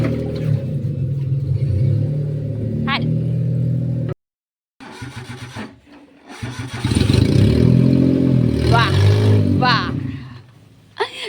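A car's engine idles and revs close by with a steady low rumble that drops out briefly, then swells loud again, with people talking over it.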